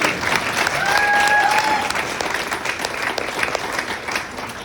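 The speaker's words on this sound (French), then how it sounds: "Alors on les applaudit." A comedy club audience applauds the service staff at a stand-up show, loud dense clapping that starts strong and slowly thins out, with a brief whistle near the start.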